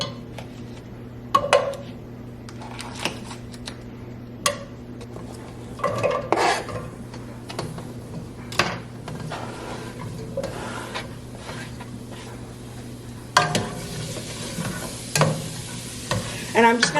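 Food in butter cooks in a pan over medium-high heat, with a steady low sizzle running throughout and repeated scraping stirs and clinks of a utensil against the pan, loudest near the end.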